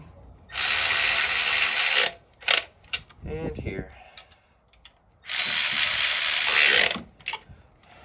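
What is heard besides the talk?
ratchet removing 10mm nuts on a Toyota Highlander V6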